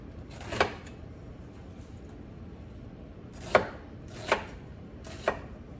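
Onion is chopped on a board in four sharp, close knife thumps, one early and then three in quicker succession, with quiet room noise between them.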